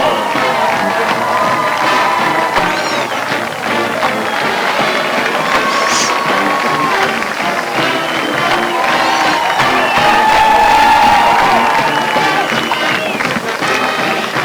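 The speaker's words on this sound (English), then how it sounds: "this crowd getting a chance to get excited even before the kickoff" A college football crowd at Arkansas Tech's Thone Stadium at Buerkle Field cheers before kickoff against Southwestern Oklahoma, a loud, sustained roar with whoops and shouts that swells near the end, and voices mixed throughout.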